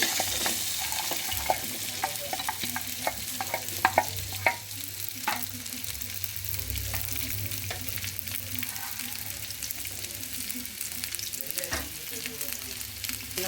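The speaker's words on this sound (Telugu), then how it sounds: "ఇప్పుడు బెండకాయలు వేసుకుందాము" Okra fries in hot oil with a loud, steady sizzle, and a utensil gives occasional scrapes and stirs close by, first in a quick cluster and then more sparsely.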